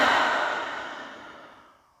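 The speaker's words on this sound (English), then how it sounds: "Let's all take a deep breath at the end." A single long exhale, breathy and soft, loudest at the start and fading away over about two seconds, heard alone at the end of a relaxation exercise.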